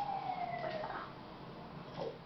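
An ambulance siren in the GTA 5 video game wails briefly, a single falling tone heard faintly over a low background rumble with no talking.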